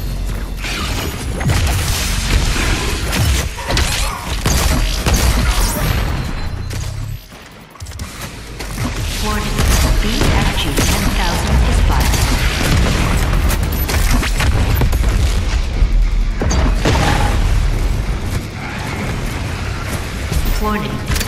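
The BFG 10,000 superweapon firing in DOOM Eternal, heavy booming blasts and mechanical rumbling that sustain loudly for long stretches with a brief lull, under a spoken voice.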